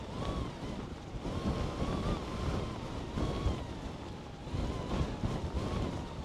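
Storm Kathleen's strong wind, gusting to about 22, buffets the microphone in a constant roar, with water sloshing and a thin whistling tone drifting through.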